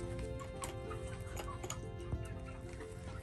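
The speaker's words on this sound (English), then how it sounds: "You are pecking my tripod." Rooster pecking at a camera tripod during outdoor chicken chores, giving a few sharp taps that sit among soft clucking and general farmyard background.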